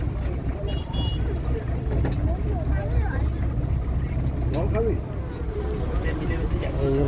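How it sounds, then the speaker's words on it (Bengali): A motor launch leaving for the Sundarbans, a constant low engine drone and water rumble running throughout beneath people talking nearby. "আমাদের লঞ্চ ছেড়েছে সুন্দরবনের উদ্দেশ্যে"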